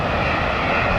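Passenger airliner engine on an over-the-top approach to landing, a loud, continuous broadband roar with no breaks, no voices.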